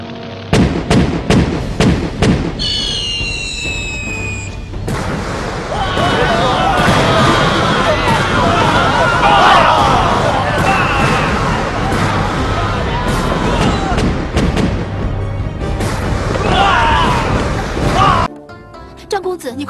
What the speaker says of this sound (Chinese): 开炮！